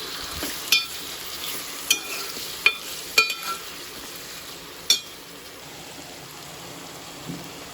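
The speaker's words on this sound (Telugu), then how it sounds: "ఇప్పుడు చికెన్ వేసేసుకొని ఒకసారి కలుపుకోవాలి" Chicken goes into hot oil and is stirred, a quiet steady sizzle punctuated by several sharp spoon scrapes and clinks against the pan, then settling to a low frying hiss.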